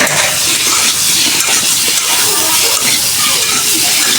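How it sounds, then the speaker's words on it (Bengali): Potatoes frying in hot oil for a home-cooked khichuri with chicken, a loud, close, continuous sizzling hiss with no talk over it. "আলুগুলো আগে ভাজা নিতেছি।"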